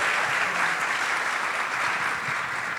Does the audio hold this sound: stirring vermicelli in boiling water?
no